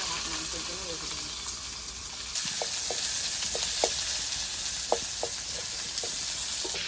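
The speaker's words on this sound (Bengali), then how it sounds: "এই তেলে পেঁয়াজটা ভেজে নেবো।" Onions fry in hot oil for biryani, giving a steady close sizzle that rises sharply partway through as more goes into the pan, with a few light clicks of stirring scattered over the hiss.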